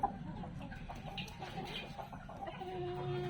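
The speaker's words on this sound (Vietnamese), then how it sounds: "Gà tơ mới lớn." Young chicken clucking close by in short, soft repeated calls, with light background noise and no talk.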